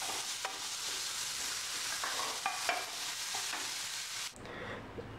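Tomatoes stirred and fried in a pan for masala puri: a steady broad sizzle with repeated scraping strokes of a spoon, loud and close, easing to a quieter simmer near the end.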